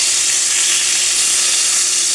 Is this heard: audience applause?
no